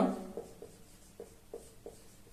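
Pen or pencil scratching out a math equation by hand on paper, a few short separate strokes and taps, quiet and close with no talking.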